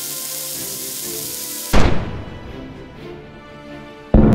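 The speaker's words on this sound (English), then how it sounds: "Fire the cannon!" A single loud toy pirate-ship cannon boom bursts in partway through and rumbles away, with another sharp onset at the end.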